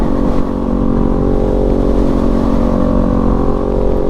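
A Kawasaki Z400 motorcycle rides at steady speed, its engine droning loud and continuous with a constant rumbling tone throughout.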